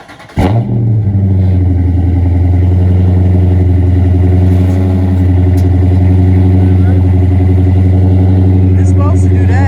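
Dodge Charger Scat Pack V8 with its check engine light on cranks and fires up with a sharp bark, then settles into a loud, deep, steady idle.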